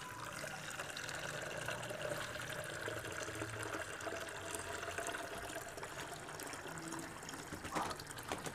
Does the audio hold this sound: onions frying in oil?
no